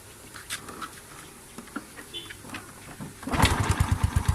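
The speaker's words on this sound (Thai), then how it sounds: "เดี๋ยวสตาร์ทเครื่องให้ฟังนะครับ" A Wave 100 motorcycle engine cranks and fires up on the first try, settling into a rapid, smooth, steady idle putter up close, with some faint background noise beforehand.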